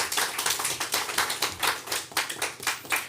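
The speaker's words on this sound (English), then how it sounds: "Can you give them an applause" Audience at a company's annual general meeting claps steadily, a dense patter of individual hand claps with a slightly uneven rhythm, moderately close and without talk.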